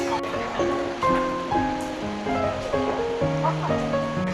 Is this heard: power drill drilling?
no